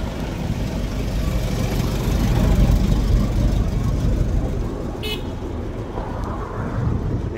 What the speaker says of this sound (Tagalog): Medyo marami-rami na rin yung dumadaang mga sasakyan.